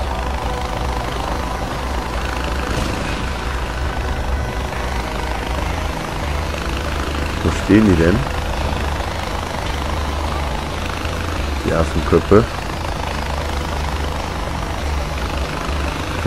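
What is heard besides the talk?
helicopter approaching in the video game Far Cry 4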